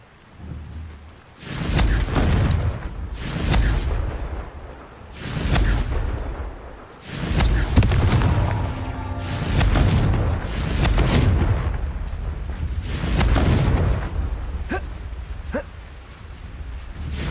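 Confringo blasting spell explosions in Witch Simulator 2023, a rapid series of about nine loud, booming blasts, each a sharp burst trailing into a rumbling decay, fired one after another with brief gaps between them.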